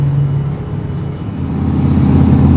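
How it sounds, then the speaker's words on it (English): Drift cars idle and rev on the starting grid at a drift event, a steady low engine rumble that swells louder toward the end, several motors running together. "Listen to the cars warm up"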